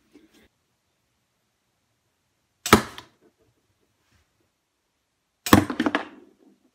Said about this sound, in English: It's a little pistol crossbow. Not too powerful, but it's pretty accurate.